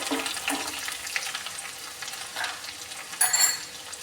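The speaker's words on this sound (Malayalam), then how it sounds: "കടുക് ചൂടായതിന് ശേഷം കൊച്ചുള്ളി ഇട്ട് കൊടുക്കാം." Shallots crackling and sizzling in hot mustard-seed oil on low flame for sambar, a steady close frying hiss with stirring scrapes and a louder spitting burst near the end.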